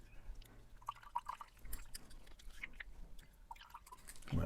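Clear water is pushed with a blunt syringe through the ink chamber of a Penbbs 456 vacuum-filler fountain pen, giving faint close drips, gurgles and small liquid trickles, quiet and irregular, ending with a brief louder clunk.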